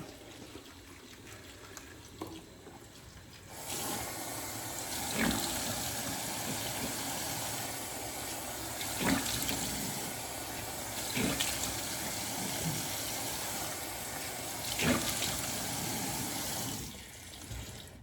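Water runs from a tap into a sink during face washing: a steady, moderately close splash and hiss starts a few seconds in, continues with brief louder splashes, then cuts off near the end.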